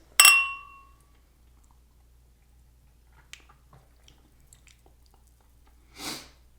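Champagne glasses clink once in a toast, a sharp bright ring at the start that fades quickly. Quiet follows, then a short rustly sniff-like noise near the end.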